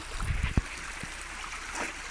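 A small river flows over a little dam built by children, giving a soft, steady trickle and gurgle of water with a few faint splashes and knocks, close and quiet.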